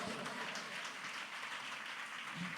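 A church congregation at a Sunday service applauds, a faint, even patter of many hands clapping heard from a distance throughout.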